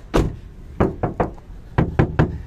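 Knuckles knocking on the thin sheet metal of a 2016 Mazda BT50 pickup cab, eight loud hollow thuds in uneven pairs and singles, close and clear.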